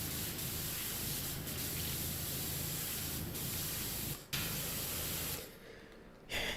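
A pressure washer nozzle sprays steadily in Powerwash Simulator 2 during a bowling alley cleaning job, a loud broadband hiss that runs continuously, with a brief dropout and then a quieter, softer spray near the end.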